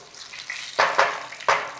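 Bursts of hissing sizzle rise in quick succession as crushed black pepper and spices hit a hot pan, three louder crackling surges over a soft steady fizz.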